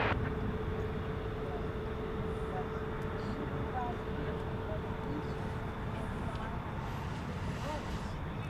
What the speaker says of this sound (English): To San Diego, an Airbus A321 Neo